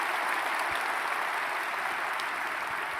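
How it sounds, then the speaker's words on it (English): Steady audience applause at a community luncheon honoring police and fire leadership, a continuous even wash of many hands clapping, moderately distant and sustained with no pauses. "give them a round of applause"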